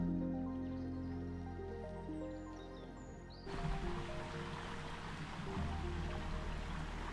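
Water flowing at a creek crossing on the Della Falls hike rushes and trickles steadily, growing louder partway through after a quieter, tonal opening.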